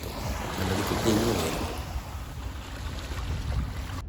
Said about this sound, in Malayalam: രാവിലെ കടലൊക്കെ ഭയങ്കര കോപമാണ്